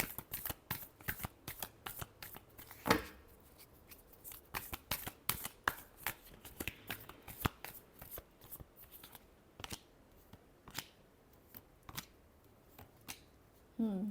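Tarot cards shuffled by hand in a steady run of crisp riffling flicks and taps, close and fairly quiet, with a few louder bursts and no talking.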